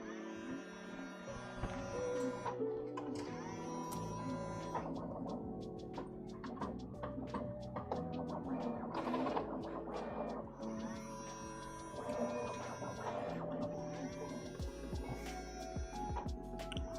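A jammed 3D printer mechanism runs steadily, giving a continuous mechanical whir and hum with irregular clicks and grinding ticks, close and alone without talk.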